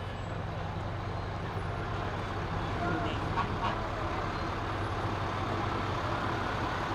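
Fire trucks pass slowly in a small-town Christmas parade, a steady low engine rumble and roadway drone filling the air, with faint higher tones.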